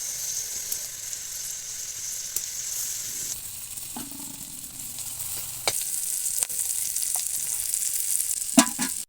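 Oil heats in a pan with a soft, steady sizzle and hiss, with occasional light stirring scrapes and clicks close by.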